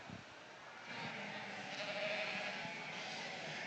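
Southdown ewe lambs at a junior breeding sheep show at the Ohio State Fair, bleating faintly amid a steady hiss of show-ring background noise, with no close talk.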